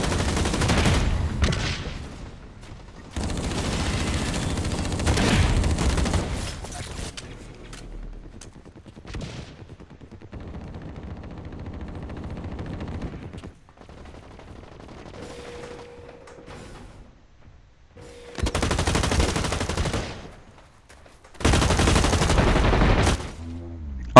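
Gunfire in the online shooter Blacklight: Retribution, loud bursts of automatic shooting in several separate stretches, with quieter gaps and faint background sounds between them.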